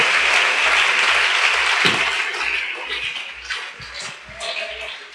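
A church congregation applauding during Sunday school, loud close clapping that fades somewhat after the first seconds, with a low rhythmic thump pulsing underneath.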